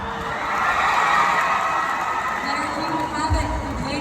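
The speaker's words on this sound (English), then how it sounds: "Round of applause once again." A beauty pageant crowd cheers and shouts in a broad, steady roar of noise, with some claps mixed in and no clear speech.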